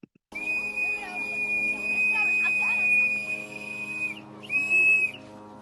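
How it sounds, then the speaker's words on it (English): Students blow whistles during a classroom drama activity, giving a sustained shrill tone that holds for about four seconds, breaks briefly, then sounds again, with faint voices and room noise beneath. "they just blow the whistle instead"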